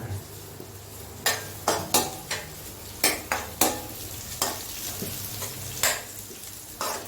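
Chicken curry ingredients are stirred in a pan after the onions, with a spoon clanking and scraping against the metal at irregular intervals over a low background sizzle.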